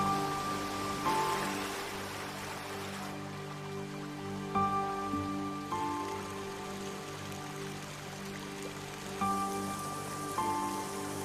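Steady rain falls on surfaces across a Caribbean island, a continuous close hiss of drops with soft sustained tones running beneath it for the whole stretch.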